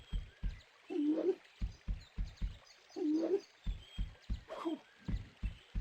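Background birdsong in the Winnie the Pooh video game Rumbly Tumbly Adventure: a few short chirping calls rise between a steady, regular low thumping beat, moderately loud with no talking.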